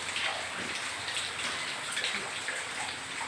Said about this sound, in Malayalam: തമിഴ്നാട്ടിൽ നല്ല മഴയാണ്